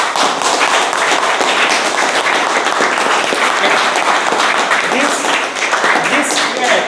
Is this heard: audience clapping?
yes